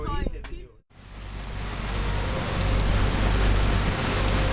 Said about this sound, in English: I awoke at 7 to a sudden morning rain squall.